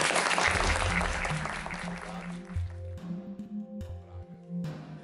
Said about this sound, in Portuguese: Uma salva de palmas ao mestre José Celso Martínez Peculiar